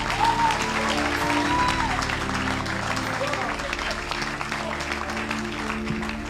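An audience at a church service claps in sustained applause, with a voice and tonal background sound running beneath the clapping.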